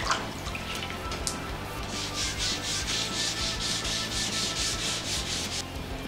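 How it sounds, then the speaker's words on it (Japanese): Rhythmic hand sanding of a painted motorcycle helmet with 800-grit sandpaper: steady back-and-forth rasping strokes, close and clear, with no one talking. "800番のペーパーで研いでいきます。"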